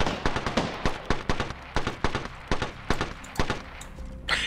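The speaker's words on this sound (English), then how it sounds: "I know, I'm just sniping with the alternator." An Alternator gun firing in a video game, a rapid string of loud, sharp shots in quick bursts, evenly spaced and close, with no talking.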